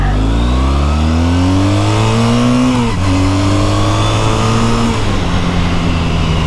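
A Triumph Bonneville motorcycle engine pulls hard from a roll, its loud, close tone climbing steadily, dropping briefly at each of two gear changes, then climbing again.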